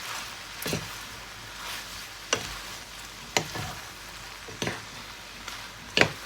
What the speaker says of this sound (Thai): แล้วเราก็จะคลุกเคล้านะคะให้เข้ากันนะคะ